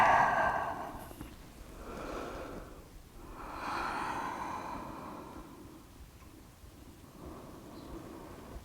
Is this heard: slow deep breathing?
yes